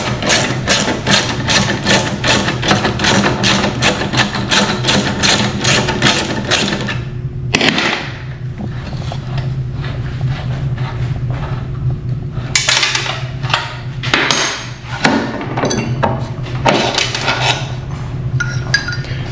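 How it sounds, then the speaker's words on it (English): Rapid metallic ratcheting clicks give way to scattered clinks and taps of steel tools as a 13mm box wrench and socket loosen the sprocket on the rear drum of a Revolution reel mower, close and steady with no talking. "Simply take my 13mm box wrench and a T-tool or socket, and we're going to take this off."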